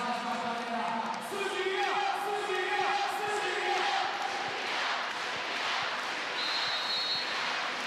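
Arena crowd at the Italy vs Serbia EuroVolley 2021 volleyball final, a loud sustained roar of chanting and cheering with whistles, under a commentator's voice.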